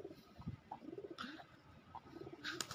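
Pigeons cooing softly in a small group, low rolling calls repeating in short bursts, faint and fairly close, with a few brief chirps and light background noise.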